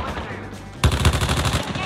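Rapid automatic gunfire in a video game, a fast burst of repeated shots starting abruptly and continuing loudly to the end after a moment of lower background noise.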